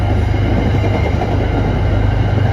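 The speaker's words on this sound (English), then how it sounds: "TA train bound for Boston North Station is now on its way heading to Boston North Station from Melrose Highlands." Commuter train moving through Melrose Highlands station on the line toward Boston North Station: a loud, steady rumble and roar of rail cars passing close by, continuous throughout with no talk.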